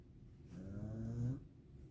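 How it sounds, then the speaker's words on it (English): A pug snoring in one long, rasping, rumbling inhale lasting about a second, close and clear against a quiet room. "And now he up and snoring."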